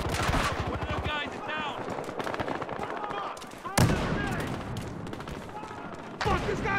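Dense gunfire from Battlefield Hardline, bursts of rapid automatic shots and sharp cracks layered over one another, loud and continuous, with talk running underneath throughout.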